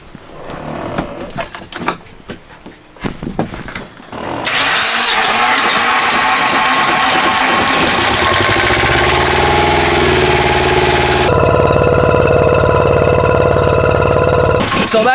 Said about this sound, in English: So what I do is to just give the engine a lot of power right away, just to fuel it as much as you can.